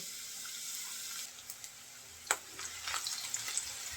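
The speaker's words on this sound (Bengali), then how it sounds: "পেঁয়াজটা একটু ভেজে নেব" Sliced onion fries in oil in a pan for a Bengali catfish and new potato curry, giving a steady close hiss of sizzling with a few sharper pops and crackles toward the end.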